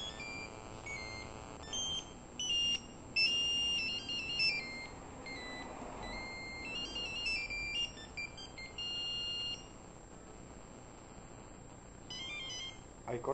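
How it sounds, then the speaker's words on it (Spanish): A cell phone rings after being called by a triggered alarm system, a repeating electronic ringtone of bright beeping tones in bursts across the whole stretch, fairly faint, with a little background noise between rings. "Cuando disparamos, va a ser un llamado a un teléfono celular."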